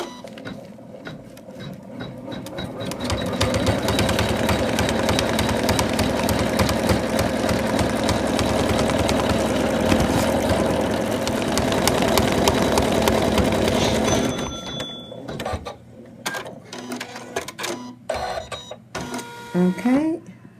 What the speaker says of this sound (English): we're going to go back to the machine and stitch it together